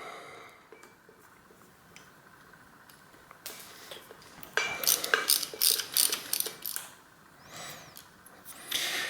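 Screws being backed out of an RST Gila Pro bicycle suspension fork, heard as close, faint mechanical clicks and ratcheting tool turns that grow busier and louder toward the end, with no talking.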